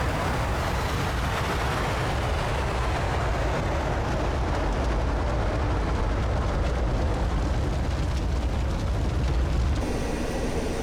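A jet taking off in the DCS flight simulator, a steady, loud engine roar and rumble that holds throughout before a sudden change at the very end, as if from a crash.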